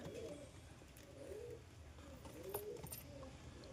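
Pigeons coo softly several times in a slow, rolling rhythm during 38°C heat, over a faint background hiss.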